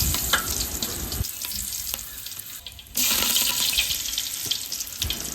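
Fenugreek seeds and curry leaves hit hot oil left from frying chicken, a loud, close, continuous sizzle that dips briefly, then surges again as more goes into the pan.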